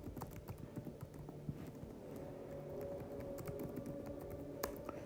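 Quiet, rapid clatter of keys typed on a computer keyboard while coding a JavaScript calculator, with irregular bursts of soft clicks and a faint background hum, no talking.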